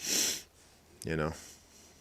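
A sharp nasal sniff is followed by a brief, throaty, voiced snort, close to the listener.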